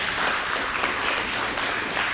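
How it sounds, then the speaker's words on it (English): Applause from an audience at a celebration event in Cape Town, a steady dense patter of clapping that holds at an even level throughout. "Round of applause."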